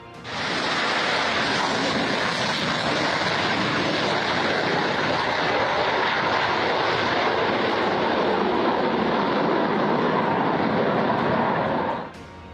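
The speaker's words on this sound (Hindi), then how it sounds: "चंडीगढ़ एयरबेस से MiG-21 फाइटर जेट ने अपनी आखिरी उड़ान भरी।" A MiG-21 fighter jet takes off on its final flight from Chandigarh air base, a loud, steady, broad engine roar that holds for about twelve seconds before cutting off, with no voices.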